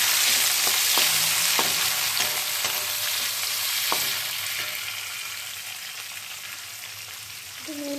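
Capsicum frying in a pan for a chicken bowl, giving a steady bright sizzle with a few sharp pops and stirring scrapes, close and continuous while it slowly quiets.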